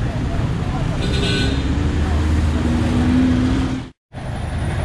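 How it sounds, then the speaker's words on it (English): Trucks creep in slow traffic across the main highway bridge in San Gil, Colombia, giving a steady, close engine rumble and road noise throughout, with a high whine partway and a brief dropout near the end. "Trucks are slowly moving along."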